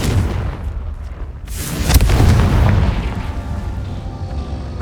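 Confringo fire spell in Hogwarts Legacy bursts with a loud booming blast, a sharp crack followed by a rumbling explosive tail that lingers and fades over several seconds.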